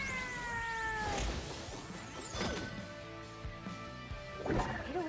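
A cat meows in the Hi-Fi Rush video game, set against a dense, continuous game soundtrack with sweeping tones, while a few louder crashing accents stand out near the start, middle and end.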